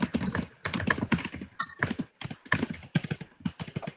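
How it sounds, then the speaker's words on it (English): Someone types rapidly on a computer keyboard during an online community health commission meeting, a steady close clatter of keystrokes in quick bursts with no talking over it. "Someone is typing away and we can hear everything they're typing."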